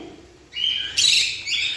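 Pet birds kept at home chirp and tweet in a few short, bright bursts close by, with brief pauses between calls and no talking.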